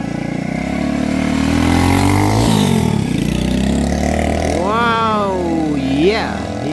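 A motorcycle in Cape Verde pulls away, its mid-pitched engine revving and rising in pitch as it accelerates, with voices talking over it.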